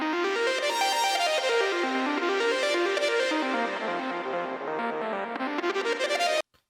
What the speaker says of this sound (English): that sound was the synth lead that occurs in the song